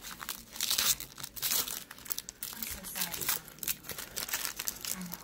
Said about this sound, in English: let's open this one. It's 2018 football cards, Donruss. Four cards for a pack.